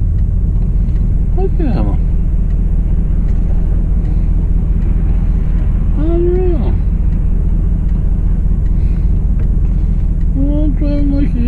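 Cars driving past on a busy road, a steady loud traffic rumble with passing vehicles throughout, while someone talks over it.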